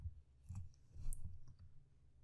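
A few soft, sparse computer mouse clicks, faint and close, spaced irregularly over a quiet background with no talking.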